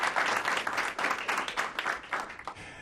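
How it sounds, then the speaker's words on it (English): Members of the public applaud at a planning commission meeting, a burst of uneven clapping that rises and falls over a few seconds and carries a faint murmur. "Members of the public, if you wouldn't mind holding your applause, we'd appreciate it"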